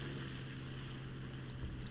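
The damaged engine of an I-16 Type 27 fighter in War Thunder gives a steady, rough droning roar with a low hum, continuous and fairly faint, with no talking.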